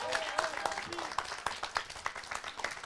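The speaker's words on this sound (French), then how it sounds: "on peut leur faire une bonne main d'applaudissements" Audience applause for performers at a French stage show, a steady crackle of many hands clapping with voices calling out over it throughout.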